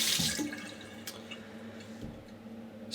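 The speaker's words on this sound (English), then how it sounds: "You rinse this off." Water runs and drips while a safety razor is rinsed off, with soft splashes and a few sharp taps and clinks against a quiet background, close by and with no speech.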